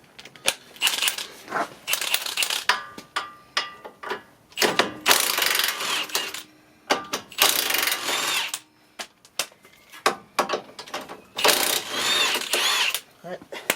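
Power tool removing two nuts and a bolt on a 2008 Honda Civic passenger-side CV axle: repeated loud bursts of an impact wrench or drill whirring, each a second or two long, with short pauses and a voice talking between them.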